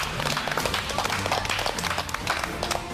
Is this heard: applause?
yes